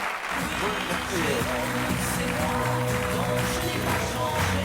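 Studio audience on a French TV game show applauding steadily throughout, a dense wash of clapping mixed with music and background voices.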